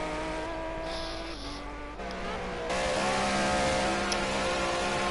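An Aston Martin GT3 race car laps Donington Park during qualifying, its engine droning steadily with shifting pitch, a gear change and a rise in revs as it runs close and loud without talk.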